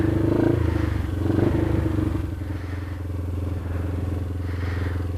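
Kayo MR150 dirt bike with a Smartcarb carburetor idling after a fuel starvation fix, a steady close putter with slight lumpy pulses and faint clatter, no speech over it.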